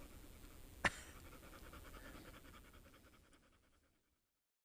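A dog panting rapidly after running, a quick soft rhythmic huffing close by with one sharp click near the start, fading away to silence.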